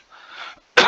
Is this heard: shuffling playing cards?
no